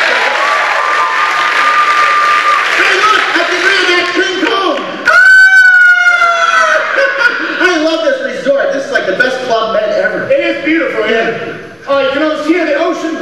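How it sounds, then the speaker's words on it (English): Crowd applause and cheering at an improv comedy show. The opening seconds are a broad wash of clapping, then a whistle-like tone cuts in and loud talking and shouting take over. "A little round of applause."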